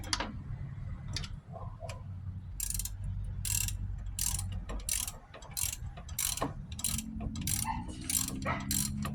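A hand ratchet fitted with a wobble socket extension runs a bolt in on a 2007-2012 Nissan Altima, giving rapid clicking pawl ticks in quick bursts, close and fairly quiet over faint workshop background.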